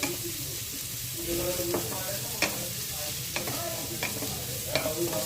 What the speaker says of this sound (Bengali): ভালোভাবে দুটো পেঁয়াজকে ভেজে নিলাম।